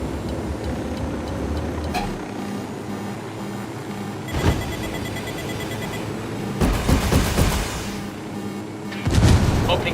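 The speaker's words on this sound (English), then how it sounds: "Opening fire on these fuckers." Gunfire and booms in the video game Ghost Recon Wildlands, with several loud broadband bursts, some in rapid clusters, over a constant low rumble of engine and ambience.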